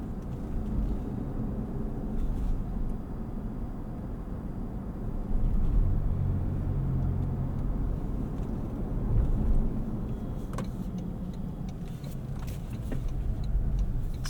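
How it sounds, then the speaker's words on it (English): A 2025 Toyota 4Runner Trailhunter cruising around 24 to 25 mph on its electric motor, giving a steady low road and cabin hum with faint tire rumble and no engine roar, continuous and even. "Sitting here about 24, 25 miles an hour, just maintaining our speed with that electric motor."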